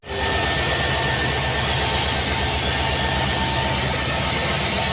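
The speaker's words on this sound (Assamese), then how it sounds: "এখন আমাৰ ট্ৰেইন পুৰী এক্সপ্ৰেছ" The Puri Express train rumbles loudly and steadily at a station, with a rhythmic low thumping of wheels and a constant mechanical drone and no voices.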